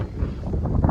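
Wind gusting low over open ground at Wrigley Reservoir near Black Hill, a steady close rumble buffeting the microphone for about a second, with no talk.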